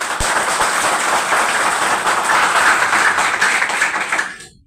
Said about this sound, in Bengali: ছেলেরা একবার হাততালি দিন তো